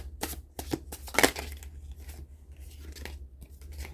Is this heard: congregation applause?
no